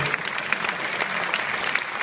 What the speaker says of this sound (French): On applaudit encore une fois Niki